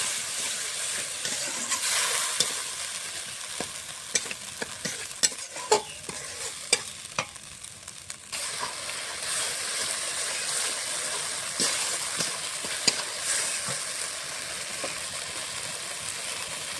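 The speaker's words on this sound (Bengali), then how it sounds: "হলুদ গুঁড়ো, স্বাদ মতো নুন, লঙ্কা গুঁড়ো, ধনে দেবো, মশলাটা কষিয়ে দেবো।" Spices sizzling and being stirred in hot oil in a pan, with turmeric, salt, chili and coriander powder for a Bengali fish curry with pointed gourd; a steady close frying hiss with repeated scraping stirs, no talk.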